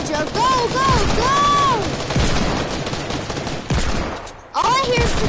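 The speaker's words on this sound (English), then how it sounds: "All I hear is the gunshots right now." Rapid volleys of gunfire from a shooter video game crackle in loud, dense bursts with whooshing and whistling effects mixed in, briefly dropping away before another burst.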